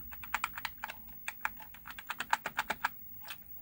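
Keys pressed on a ZX Spectrum home computer keyboard that has a fault, a quick irregular run of sharp clicky taps, close and clear with no talking.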